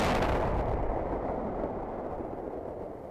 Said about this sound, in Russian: Сегодня был произведен первый подрыв найденных взрывоопасных предметов.